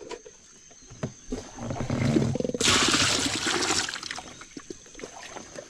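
Wading into a river or stream while out fishing, with water sloshing and splashing close by in a busy burst midway, surrounded by quieter trickling and movement.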